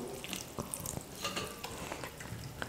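Tap water pours and splashes into a strainer to drain and rinse cooked vermicelli in a kitchen, a close, continuous splashing with small clatters.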